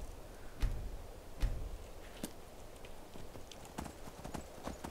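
Horse hooves clip-clop in Skyrim, a fantasy role-playing video game, with a few heavier thuds early on and then lighter, steady hoofbeats over faint ambient noise.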